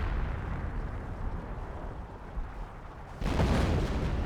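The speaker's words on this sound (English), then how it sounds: "Got a creeping barrage as well." A creeping artillery barrage in the video game Company of Heroes rumbles as a steady wash of distant explosions, then swells into a louder, closer burst of blasts near the end.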